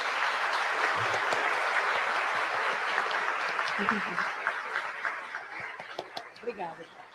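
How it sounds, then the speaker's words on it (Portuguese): Applause from a small audience at a spiritist federation talk, steady clapping that thins out toward the end, with chuckles and brief voices mixed in. "uma salva de palmas para Francisco Cândido Xavier."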